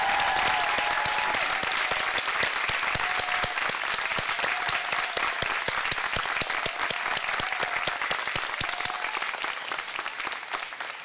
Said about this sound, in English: let's give them an enthusiastic round of applause